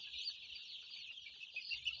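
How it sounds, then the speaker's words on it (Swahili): Improved kienyeji chickens cluck and chirp in a steady, busy flock chorus for a couple of seconds, with no talking over it. "Kama kawaida kuku ni mali."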